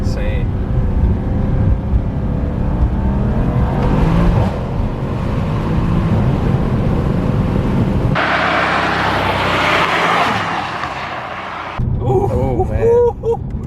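A Mercedes AMG car engine roars loudly and revs hard, accelerating in surges with a sharp change partway through and a quieter stretch near the end, heard close up with voices partly over it.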